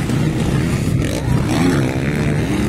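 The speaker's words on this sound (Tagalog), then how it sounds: "Sobrang lakas ang kanyang motor." Motocross motorcycle engine racing in an intermediate open race at Cabanglasan, a loud, near, buzzing whine that rises and falls as the rider works the throttle.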